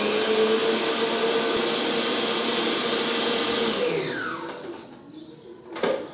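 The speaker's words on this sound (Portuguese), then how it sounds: "Vou colocar a batedeira para funcionar" An electric mixer beats peanut cake batter with a steady, loud motor whine that then spins down with a falling pitch and stops, followed by a short clatter.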